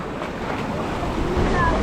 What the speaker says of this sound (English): Oh, there's the waves.